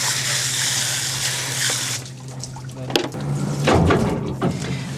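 Steady spray of water raining down from an overhead bar onto fresh salmon being rinsed, a broad continuous hiss that thins out midway, with clattering handling noises near the end.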